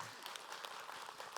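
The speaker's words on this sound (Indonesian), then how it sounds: "boleh tepuk tangan dulu" A studio audience at an Islamic religious television program claps in a dense, even burst of applause, with a faint voice underneath.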